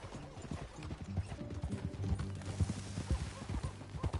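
Galloping horse hooves from the video game Red Dead Redemption 2, a steady rhythmic clip-clop close by, with low music or a voice rumbling underneath throughout.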